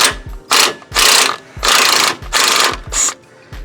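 Ratchet wrench backing out the steering box bolts on a 2003 Ford F-350, heard as several close, quick bursts of sharp clicking with short pauses between them and no talking.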